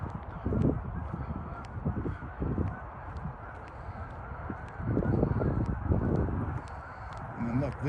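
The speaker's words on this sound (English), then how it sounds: "Geese everywhere." Geese honk in scattered bursts around a lakeside park path at sunset, the calls rising over steady outdoor background noise with some nearby activity.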